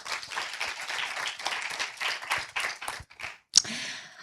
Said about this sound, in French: je vous remercie de les applaudir tous les trois